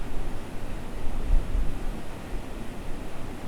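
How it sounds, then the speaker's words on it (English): Soft, steady rush of water at Rodman Dam, a continuous low broadband wash heard from a moderate distance with no voices. "It's so relaxing, the noise of the water."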